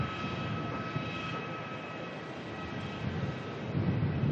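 A Qantas airliner, flight 760 from Perth, arriving on runway 34 at Melbourne, heard as a steady broadband engine roar with a faint high whine, slightly swelling toward the end, no talk.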